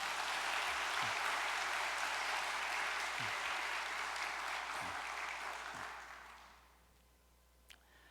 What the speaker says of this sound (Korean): 열심을 다해 활동하고 있는 식구님들을 위해서 격려의 박수를 한번 보내겠습니다.